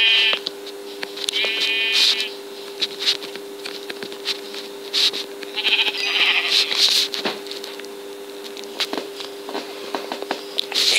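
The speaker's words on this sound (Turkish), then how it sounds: "Hemen şu koyunları bir alayım." Sheep bleat repeatedly, loud and close, with several overlapping calls scattered across a steady low hum, plus soft patter and clicks between them.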